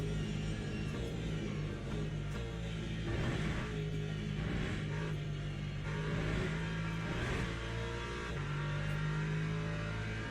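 LMP2 prototype race cars in Le Mans Ultimate pass one after another, their engines rising and falling in pitch as they rev and sweep by over a continuous background of engine drone.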